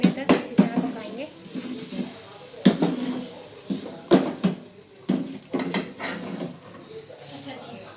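Green masala chicken stirring and frying in a pan: repeated scraping and clattering strokes of a spoon against the pan over a soft sizzle, with a voice talking throughout.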